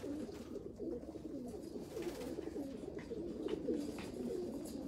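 Racing pigeons coo at a loft in a steady, overlapping stream of low, throaty murmurs, close and moderately loud, with no voices over them.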